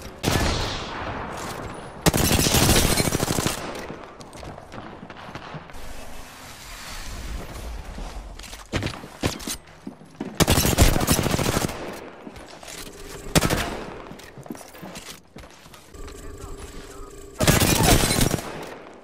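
Bursts of video game weapon fire in a ranked arena match, loud broadband volleys recurring every few seconds with quieter gaps between, and a voice talking at times.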